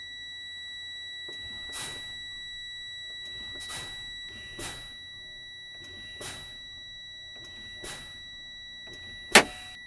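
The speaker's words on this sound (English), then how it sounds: "I'm going to continue fanning my brake until both my parking and my trailer brake pop out." A truck air brake pedal is pumped repeatedly, and each press gives a sharp hiss of released air, about six bursts spaced roughly a second apart, over a steady dashboard buzzer tone and ending in a loud pop.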